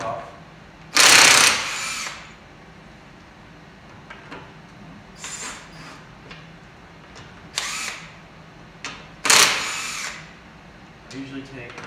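Impact gun bursts unscrewing wheel lug nuts during a wheel stud conversion, two loud bursts plus shorter ones spaced across the clip, with workshop handling noise between.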